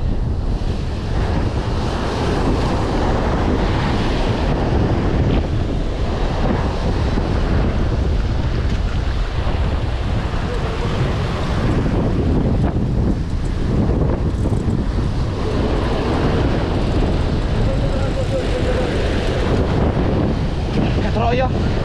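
Ocean surf crashes and rushes continuously onto a rocky shore during shore jigging for mahi mahi, with heavy wind buffeting the microphone throughout and a faint voice now and then beneath the roar.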